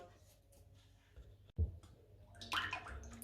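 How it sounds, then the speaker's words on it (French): Liquid cream poured from an opened carton into a freezer-chilled bowl for a carambar mousse, a soft splashing pour rising near the end after a sharp click of the carton opening, close and fairly quiet. "ma crème liquide que je vais venir ouvrir et verser dans mon bol"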